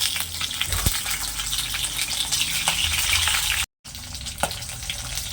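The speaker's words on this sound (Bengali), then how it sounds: "মাছটা ভাজা হয়ে গেছে" Pieces of catla fish fry in hot oil in a pan, giving a steady, loud crackling sizzle that runs almost throughout with a few sharp pops and a brief dropout near the end.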